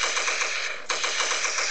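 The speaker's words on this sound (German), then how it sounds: "ihr habt hier so eine kleine Kanone und irgendwie müsst ihr hier diese Mannequin ringsherum abschießen" Rapid, evenly spaced shots from a small cannon firing at mannequins in the mobile game Dark Kill, a dense mechanical rattle that runs for nearly two seconds with a brief hitch midway, loud and close with no talking.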